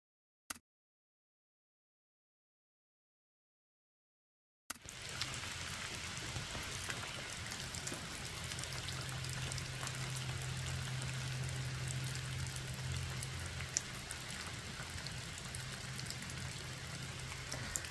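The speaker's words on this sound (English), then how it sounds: "It's raining." Steady rain patters on the roof of a trail lean-to after a brief knock and a stretch of silence, a dense, even hiss that continues without voices.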